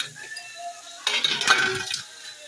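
Mashed boiled potatoes stirred into hot oil and masala in a pan with a metal spoon, giving a burst of scraping clinks and soft sizzle after a quieter start, close by.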